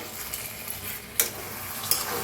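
A spoon stirs potato and eggplant curry in a pan, with a soft sizzle and two sharp clinks of metal against the pan.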